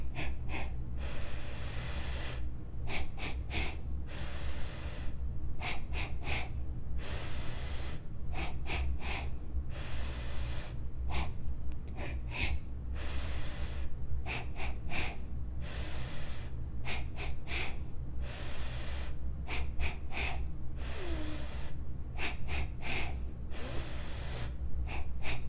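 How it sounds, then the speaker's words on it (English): Breathing exercise with one inhale followed by three short, sharp exhales through the nose, repeated in close, regular cycles with quiet pauses between them and no talking. "we'll breathe in 1 inhale in, and then 3 exhales, short exhales out"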